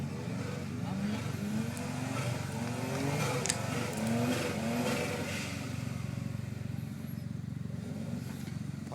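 A Suzuki Jimny JA11 engine drones and revs as the small off-roader accelerates, a steady rumble with rising and falling pitch. People talk over it throughout.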